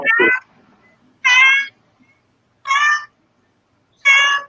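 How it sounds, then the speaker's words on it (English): A cat meows right up against a microphone, four loud, close, tonal calls spaced about a second apart, with near silence between them and no talk. "not only is the cat there, but the cat is right up on the microphone too"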